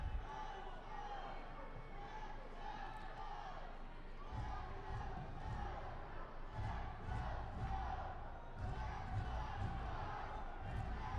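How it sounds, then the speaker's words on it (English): An indoor soccer crowd at a Tacoma Stars versus San Diego Sockers match cheers and roars in a steady, distant swell, with rising bursts under faint commentary. "Crowd getting into this thing."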